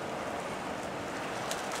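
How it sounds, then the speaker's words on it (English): Strong wind gusts roar continuously around a barn during a wind advisory, a dense rushing noise with wind buffeting the microphone and no voices. "we're in a wind advisory, and it's blowing the hell out of this barn door all night"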